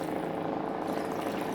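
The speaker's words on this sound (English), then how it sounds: "So I am gonna pour in enough water" Water poured steadily into a cooking pot of Jamaican stew chicken and chicken feet, a continuous close splashing and gurgling stream with no talk.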